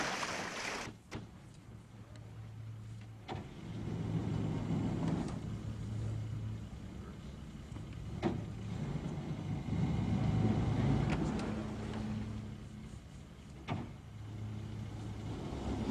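Boat engine idling and rumbling steadily, with short surges of throttle fore and aft as the craft is maneuvered with the rudder hard over, plus occasional clunks of gear shifts.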